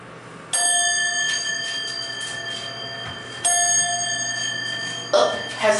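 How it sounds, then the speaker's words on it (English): The electronic bell in a Westinghouse MPH hydraulic elevator at Macy's, Ross Park Mall, chimes twice with clear ringing tones that decay slowly, followed by a brief clunk near the end. "Oh, has an electronic bell."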